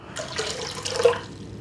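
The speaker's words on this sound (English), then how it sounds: "I've got 800 grams of water. I'm going to put everything in there" About 800 grams of water is poured into a stand mixer bowl for sourdough focaccia dough, making a short, close splashing gush with no voices.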